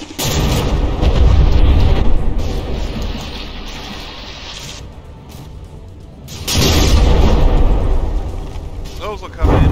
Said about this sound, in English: a lot of those shells just missed